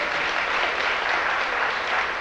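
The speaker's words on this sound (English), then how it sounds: "clap your hands if you believe that" A lecture audience claps their hands to vote on a proposal, a steady, fairly loud burst of applause lasting a couple of seconds.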